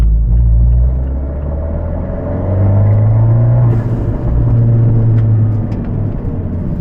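Abarth 124 Spider engine heard from inside the cabin while driving, a steady low drone with rising and falling pitch as the revs change, loud and close with no talking.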